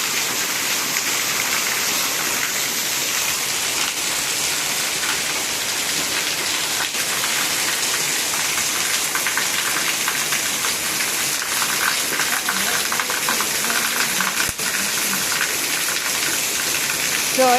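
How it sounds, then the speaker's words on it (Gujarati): Continuous heavy rain falls over a village area near farm fields after a night-long downpour, a dense, even hiss close by throughout with no other sound breaking through. "તો ભગવાનની દયાથી વરસાદ આવી ગયો"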